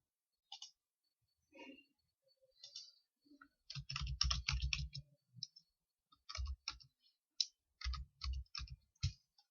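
Sharp computer mouse clicks sound while a Windows 10 virtual machine is set up, scattered singly and in short runs with a few duller thumps between them, close and fairly quiet.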